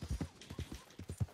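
Horse hooves clip-clop at a steady trot in the video game Red Dead Redemption II, about eight distinct thumping steps, fairly close and moderately loud, with no voices.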